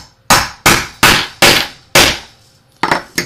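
Hammer striking a grommet-setting tool from a Harbor Freight kit, six sharp, loud, close whacks in an uneven rhythm with a longer pause before the last quick pair.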